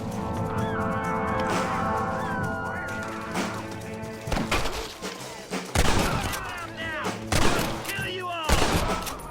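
Sharp gunshots ring out in a Red Dead Redemption firefight, single cracks and clustered volleys rising from a steady musical background, several loud, close bursts near the end with shouted voices.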